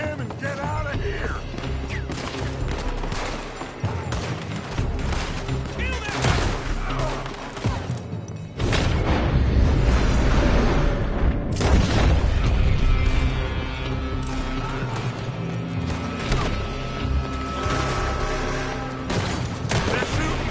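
Gunfire in Red Dead Redemption, a sustained firefight of rapid rifle and pistol shots with clattering mechanical sounds and crashes, loud and dense throughout, with a voice shouting partway through.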